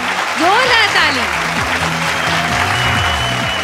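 Audience applause at a Bhojpuri singing competition show, loud and sustained, mixed with musical tones and a voice over the clapping.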